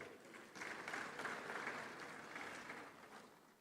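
An audience at the 30th Afreximbank Annual Meetings in 2023 applauds, a broad, steady wash of clapping from many hands that lasts several seconds before fading slightly.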